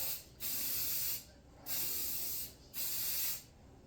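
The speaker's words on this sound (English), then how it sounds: "Spray a little bit." A rattle can sprays paint onto a Jaguar X-type in three sustained bursts of bright, close hiss, each about a second long, separated by short pauses.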